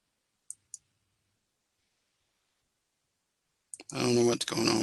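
Two sharp computer mouse clicks in quick succession land near the start, then a silent gap, then a voice begins talking.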